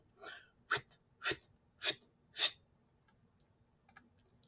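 A voice imitates a rotating lawn sprinkler with five sharp, rhythmic hissing bursts evenly spaced, then a faint click.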